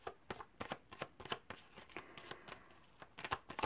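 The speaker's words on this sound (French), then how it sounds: "En attendant, je mélange ces cartes ici." A deck of cards is shuffled by hand, a series of quick riffling bursts and soft slaps close by in a quiet room, repeating irregularly with brief pauses between.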